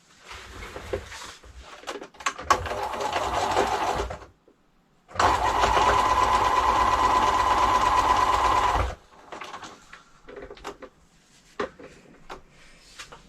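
Sewing machine stitching patchwork fabric for a scrappy notebook cover, running in bursts with a long steady whirring stretch in the middle, close and clear, separated by short pauses and handling sounds, no speech.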